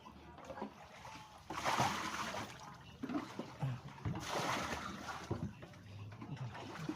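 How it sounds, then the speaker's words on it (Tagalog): Heavy floodwater rushing past during a high-water event, a loud continuous churning roar with surging splashes, mixed with distant voices. "Grabe yung tubig ngayon. Sobrang laki ng tubig."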